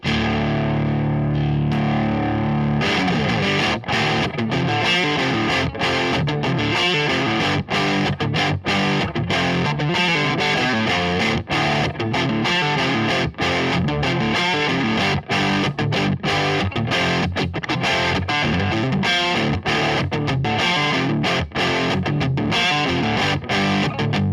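An electric guitar played through a Klon-style Centura overdrive pedal, a warm, gritty distorted tone strumming chords and riffs continuously, loud and up close, without any speech.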